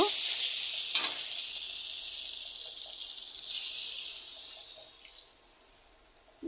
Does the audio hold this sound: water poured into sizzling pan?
yes